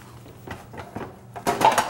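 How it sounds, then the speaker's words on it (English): A metal sauté pan clatters onto a kitchen stove: a few light knocks and clinks, then a louder, ringing metallic clank near the end, close by and with no talking. "And while that's working, we're gonna start a saute pan."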